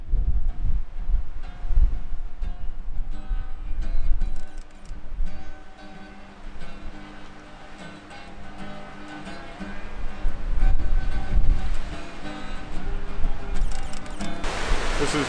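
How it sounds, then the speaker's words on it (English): Strong gusts on a cliffside batter the microphone in a loud, continuous roar that swells and eases, with no voice over it. "It's so windy up here"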